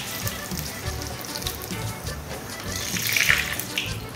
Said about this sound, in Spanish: Ya tenemos el aceite bien caliente. Ahora sí, va el primero.